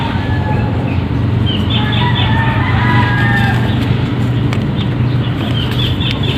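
Native free-range chickens clucking and calling around an egg harvest, with steady close clucks and short squawks over constant outdoor background noise.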